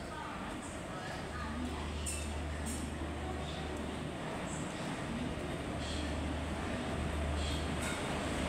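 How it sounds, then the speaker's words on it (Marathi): The Mandavi Express pulling into platform 5 on the Konkan Railway, a steady rumble of rolling wheels with periodic horn-like tones and faint clicks, while someone speaks over the station din. "प्लॅटफॉर्म क्रमांक 5 वरती आपली मांडवी एक्सप्रेस येत आहे"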